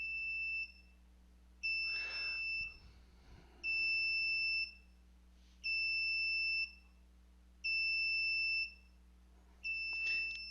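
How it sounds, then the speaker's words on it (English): An Arduino-driven active buzzer gives six steady high electronic beeps, each about a second long with even gaps, over a low mains hum, with faint handling noise in between. "I sure hope that buzzer isn't that loud."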